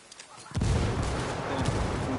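A thrown frag grenade explodes in the video game Ghost Recon, a sudden heavy blast that rolls into a rumbling, crackling tail lasting a couple of seconds.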